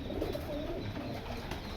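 A pure Khalsa Teddy pigeon coos in a soft, continuous low murmur, fairly faint and close, with no voices over it.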